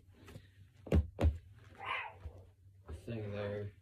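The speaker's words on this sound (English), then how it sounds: "just excuse my dog barking there" A dog barks indoors, two sharp loud woofs close together, followed by a softer whimper-like sound and some thumping, while a person talks.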